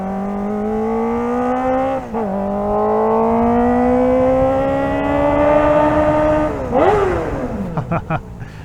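Kawasaki ZX-4RR inline-four motorcycle revving hard through the gears, a loud high-pitched engine and exhaust wail climbing steadily, dipping briefly at shifts, then dropping off as the throttle closes.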